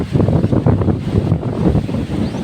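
Sea waves and wind at the shore in Armenia, Uson, make a steady, loud rushing wash with gusts buffeting the microphone throughout.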